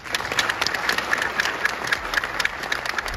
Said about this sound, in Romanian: s-au ridicat în picioare urmând ropote de aplauze